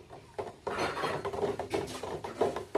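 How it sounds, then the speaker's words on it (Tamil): Sand poured onto soil and mixed in by hand makes irregular gritty rasping and scraping rustles in short, uneven bursts, close and fairly quiet. "நெக்ஸ்ட் இந்த சாண்ட் எடுத்து இதை கொட்டலாம். இதை ஃபுல்லாக இப்படி மிக்ஸ் பண்ணிக்கலாம்."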